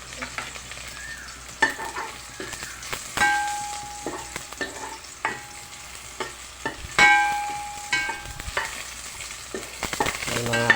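Garlic frying in a pan for a chicken dish, a steady close sizzle broken by sharp clinks and scrapes of a utensil stirring against the pan, with no voices.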